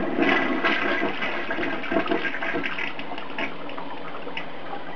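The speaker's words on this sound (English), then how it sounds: "and then you flush." A toilet flushes up close, with a loud rush of water swirling and draining that holds steady and slowly eases over several seconds.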